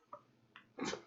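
A quiet sniffle and short breath, then one sharp, breathy sneeze burst near the end, close by.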